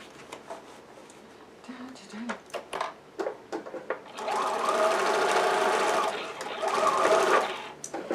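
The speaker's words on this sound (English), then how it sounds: "So I'm just sewing all the way around it." A sewing machine stitches around the rim of a dollar-store clothes basket being made into a grow bag, first in short stop-start bursts, then in a long, loud continuous run. A voice is heard at times.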